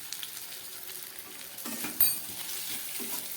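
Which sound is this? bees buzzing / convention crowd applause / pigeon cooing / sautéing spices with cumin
sautéing spices with cumin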